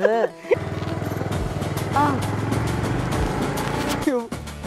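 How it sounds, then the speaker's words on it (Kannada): A man starts off on a motorcycle along a village road, its engine giving a steady running hum throughout while people talk over it nearby. "ಮೆಂಬರ್ ಬೈಕ್ನಾಗ ಹತ್ತಿಳಕ್ಕೆ ಹೌದು"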